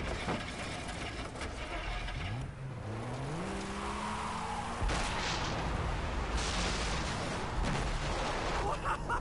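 An explosion and vehicle roar from the video game Far Cry 3: engine revving with rising pitch sweeps, then a sudden loud blast followed by broad rumbling noise and further bursts.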